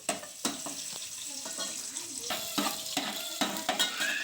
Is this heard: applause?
no